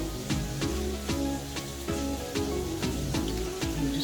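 Philly cheese steak meat sizzles steadily in a pan, a dense, even frying hiss with no one talking. Cooking noise plays over it, and faint clicks and knocks recur at a regular beat.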